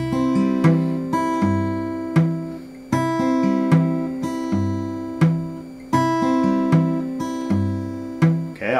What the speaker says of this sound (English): The right hand roll with the triplet pattern here